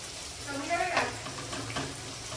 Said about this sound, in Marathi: त्याच्यानंतर टाकायचं आपण प्याज आणि मग त्याला घ्यायचं असं परतून